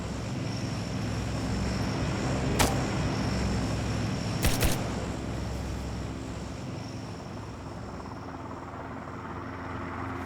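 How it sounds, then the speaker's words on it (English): A helicopter in the video game DayZ passes overhead with a steady rotor drone. Two short sharp clicks cut through it. "here comes another heli"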